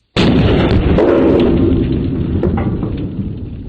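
A .30-06 rifle round is fired into a test dummy: one sharp, very loud report close by, followed by a long, heavy rumbling decay with no talking.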